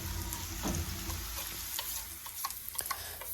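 Carrots and onions frying in hot oil in a skillet, a soft steady sizzle with a few light stirring clicks and taps near the end.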